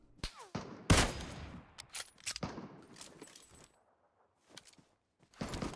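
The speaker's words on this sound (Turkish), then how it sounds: "o silah ne ya? Bir, acayip bir sesi var." Gunfire from a weapon in a sniper mode of a video game, several sharp loud shots and bursts in the first half, then quieter scattered hits and a final burst.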